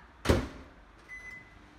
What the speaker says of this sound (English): Stick it in the microwave.